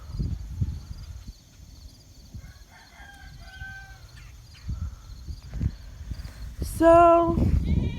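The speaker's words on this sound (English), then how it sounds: "And there's a goat out." A goat bleats outdoors beside a small greenhouse, one loud harmonic call near the end after quieter ambient rustling and faint bird-like tones.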